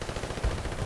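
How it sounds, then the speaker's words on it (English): AN-94 assault rifle fire in Battlefield Bad Company 2, a brief, dense burst of rapid shots heard close and loud, with one heavier thump partway through. "I'm using the AN-94, which is a beast of a gun."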